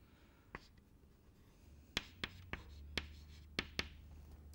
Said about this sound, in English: so let me write it correctly